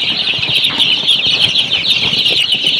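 Chickens and chicks on rice husk litter in a poultry house, with steady high chirping from many chicks and scattered clucks and wing flutters throughout.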